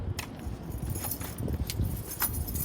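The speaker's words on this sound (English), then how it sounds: "I always love these original switchblade keys" A bunch of Volkswagen R32 car keys with a switchblade key jangles and clinks up close, with light metallic chimes over a low rumbling background.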